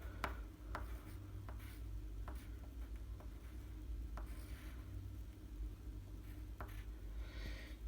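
A pen or pencil scratches steadily across paper while a halving equation is written out, producing faint, close strokes with occasional light taps and no talking.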